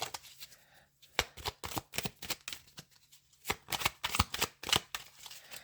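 Tarot cards being shuffled by hand, a series of crisp riffling bursts in quick irregular succession, close up, with short pauses and faint hum between.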